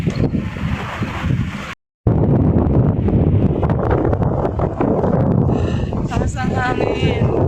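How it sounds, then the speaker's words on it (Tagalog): Strong wind high up over Singapore buffets the microphone with a loud, continuous roar, briefly cutting out once, while a person talks underneath. "Taas ang hangin."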